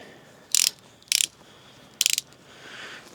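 Three crisp bursts of ratchet-pawl clicking from a bicycle wheel overhaul tool, each short and close, separated by brief pauses, with a softer faint rattle trailing at the end; no talking.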